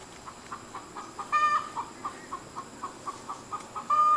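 A hen that has just laid an egg gives a run of rhythmic, close clucks, broken by a couple of louder drawn-out calls, over a quiet outdoor background.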